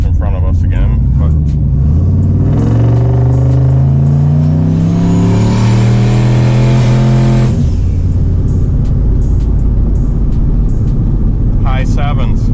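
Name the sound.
turbo LS GMC Sierra truck accelerating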